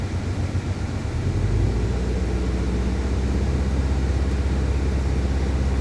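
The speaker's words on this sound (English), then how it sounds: "we're gonna give it some gas, rev it up a little bit and see if it gets any hotter" A parked Subaru WRX with a heater fault idles and is revved up to about 2,000 RPM, a steady loud engine drone with a low rumble that rises slightly and holds.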